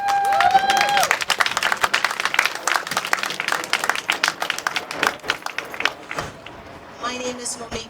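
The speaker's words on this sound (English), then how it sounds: "By a round of applause." A group at a Stop Shooting Our Sons community walk event gives a round of applause, with sharp, uneven claps close by that fade out, a brief whistle-like tone at the start, and voices near the end.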